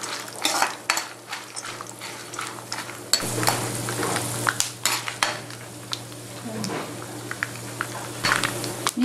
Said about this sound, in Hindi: नट्स डालेंगे और साथ ही दाल डालेंगे। इनको अच्छी तरह से भूनेंगे।